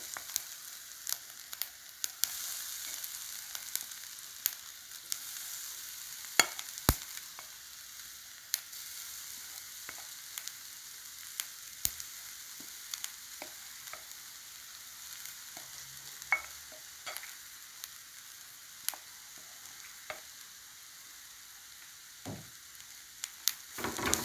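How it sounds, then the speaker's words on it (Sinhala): Cassava leaves stir-frying in a pan with tempered onions, a steady soft sizzle with occasional sharp scrapes and clicks of stirring throughout, fairly quiet and with no talking. "ලුණු ටික ටෙම්පරාදු වීගෙන යනකොට මම දැන් මයොක්කල් කොළ ටික එකතු කර ගන්නවා."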